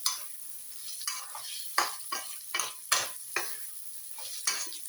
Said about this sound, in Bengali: মটরশুঁটিগুলো দিয়েও আমি একটু নাড়াচাড়া করব।